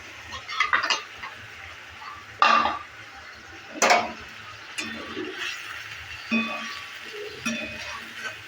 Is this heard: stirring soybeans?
yes